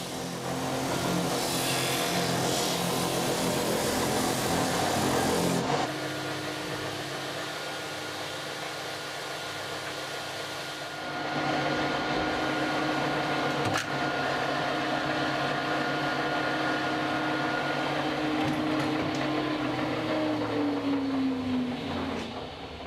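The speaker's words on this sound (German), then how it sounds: "Die Oberseite des Tisches wird nun perfekt plan geschliffen" An electric sander flattens the top of a handmade table football table, giving a loud, steady broadband whir that changes pitch and load in stages, with a sweeping tone near the end and no voices.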